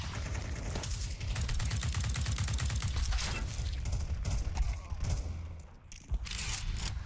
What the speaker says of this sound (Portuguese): essa arma aqui, se você ficar tá atirando um doido, ela fica espalhando tiro